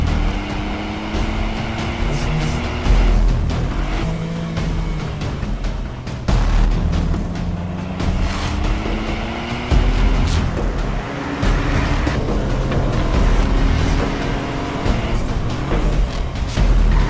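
A 2018 Ford Fiesta ST with 197 horsepower driving a mountain road, its engine note rising and falling steadily through gear changes over continuous road and wind noise.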